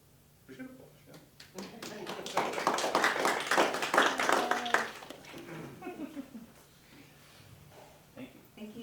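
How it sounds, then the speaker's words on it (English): Brief scattered clapping from a small group at a Board of Education business meeting, rising to a short burst of applause mixed with voices and laughter, then fading back into casual talk. "We should applaud"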